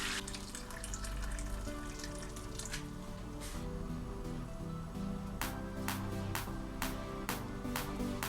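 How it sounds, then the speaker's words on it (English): Hot boiled water poured over meatballs in a pot, a steady watery splashing and bubbling that runs throughout, close and moderately loud, with a few sharper clinks and knocks toward the end. "Like this, and top up with hot boiled water. Everything should be covered."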